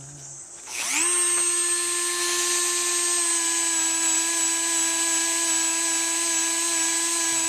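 A power tool spins up a buffing pad loaded with polishing compound against brass rifle parts, a steady loud whine with strong tonal overtones that holds evenly after a quick start-up, with no talking.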